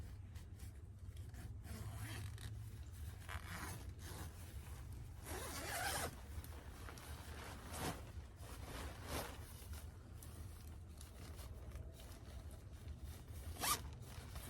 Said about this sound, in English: Now, I have a left-handed zip on this one.